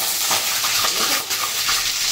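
A tadka of oil and turmeric sizzles loudly in a kadhai while a spoon stirs it in quick scraping strokes, close and continuous.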